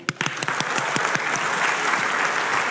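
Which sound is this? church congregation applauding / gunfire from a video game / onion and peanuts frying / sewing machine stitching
church congregation applauding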